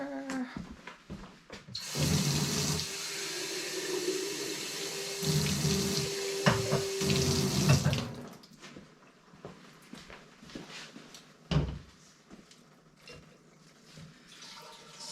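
A kitchen tap runs water into a flower vase in two bursts with a brief pause between, loud and close, then shuts off, leaving quiet handling sounds.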